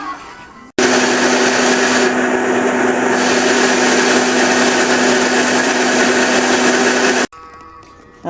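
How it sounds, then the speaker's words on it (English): An electric grinder whirs loudly and steadily for about six and a half seconds, grinding natural toothpaste ingredients into powder, and it starts and stops abruptly. "take a minute and grind that down and then add it to the powder"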